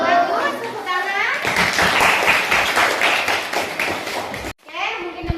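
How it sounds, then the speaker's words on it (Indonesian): A classroom of children claps for a student, a steady burst of hand applause with kids' voices mixed in, cutting off abruptly before a few children speak. "Bagus, tepuk tangan."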